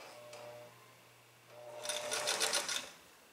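A sewing machine stitches the cuff placket opening of a shirt in white thread, a quiet hum giving way to a faster, louder burst of rapid stitching for about a second.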